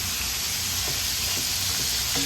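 Hash frying in grease in a single pot gives a loud, steady, close sizzle and hiss that carries on unbroken, with no talking.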